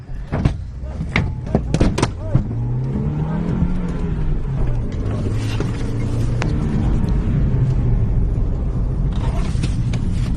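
A car drives through Setiabudi, Jakarta, carrying a Dishub transport officer on its hood. A loud, continuous engine rumble rises and falls, with sharp knocks early on, and voices talk over it throughout.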